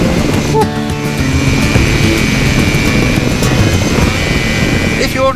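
A flexwing microlight aircraft drones steadily in flight, its loud engine and propeller roar constant and close from the cockpit, with wind rush over it throughout.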